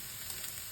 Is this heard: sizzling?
yes